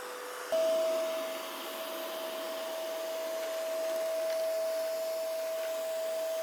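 An ECOVACS DEEBOT T90 PRO OMNI robot vacuum runs quietly and steadily, giving a faint, even whirring hum with a thin constant tone, and no talk.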